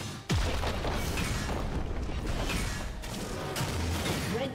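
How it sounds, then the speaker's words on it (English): A turret is destroyed in League of Legends: a sudden loud boom and crash near the start, then a dense rumbling, crumbling roar of debris with further smaller impacts, no voices. "Red team's turret has been destroyed."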